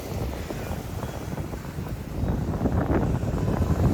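Sea wind buffets a microphone on a trip in Mumbai, making a constant low rumbling roar. The rumble grows louder about halfway through, and no voices are heard.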